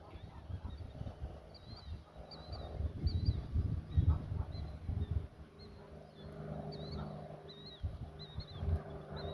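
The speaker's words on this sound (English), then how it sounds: "Eagle fight?" Bald eagles fighting give repeated high, chattering calls in short bursts throughout, fairly distant, over rumbling wind and background noise with no talking.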